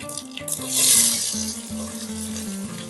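Whole spices (cinnamon, cloves, cardamom, caraway, cumin and black pepper) sizzling in hot oil in a pot, a close hissing crackle that swells briefly, with a steady tonal hum running underneath.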